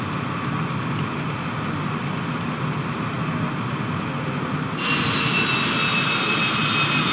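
Airliner jet engines drone steadily inside the cabin during descent toward Sugar Land, the broadband roar holding level and then shifting brighter as the throttle is pulled back, with no talking.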